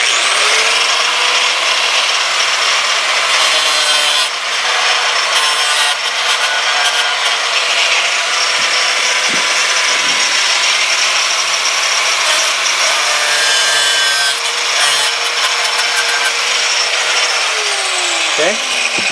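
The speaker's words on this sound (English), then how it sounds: "I'm gonna grind those nail heads off." A power grinder works the nail heads off a wooden squirrel house outdoors, a loud, steady, abrasive whir that keeps going with little change for the whole stretch.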